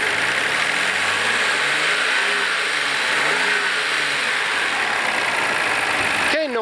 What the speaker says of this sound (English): RB26s are noisy engines, so it's normal to sound like this